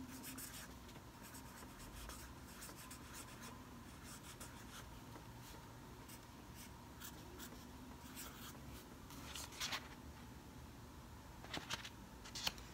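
A pen scratches across paper while someone fills in a budget sheet for a paycheck, soft continuous strokes close to the microphone with small taps and pauses between words.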